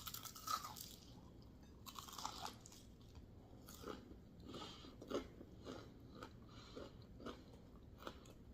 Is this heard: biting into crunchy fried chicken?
yes